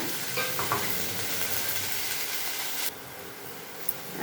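Green chillies frying in a little oil in a pan, with a steady close sizzle and some stirring scrapes that drop to a quieter hiss partway through.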